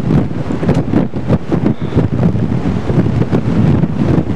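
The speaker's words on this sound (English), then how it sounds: "Very windy." Strong wind buffets the microphone on Southend pier, a loud, rough roar of gusts that never lets up, with the open sea of the Thames estuary all around.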